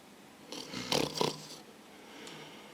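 A single raspy snore, rough and breathy, close by and fairly faint, followed by quiet breathing.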